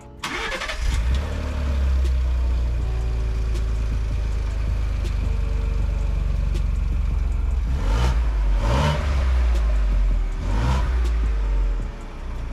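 A Ford Bronco fitted with an XForce exhaust, valves closed, cranks and fires up with a loud burst, then settles into a deep, steady, rumbling idle, with a few brief blips of the throttle late on, close and with no talking.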